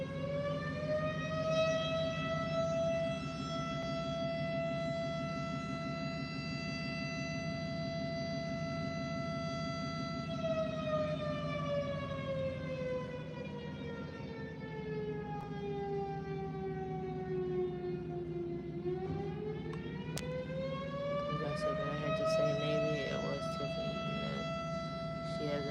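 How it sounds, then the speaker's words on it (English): A wailing siren sounds continuously for nearly half a minute, its pitch holding, sliding down slowly, then rising again, loud and steady with a voice talking faintly underneath. "It's this siren that goes off all the time."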